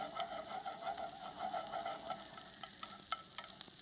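Garlic and ginger sautéing in a pan, a soft steady sizzle with a few light clinks and stirring taps, close but quiet, with no talking.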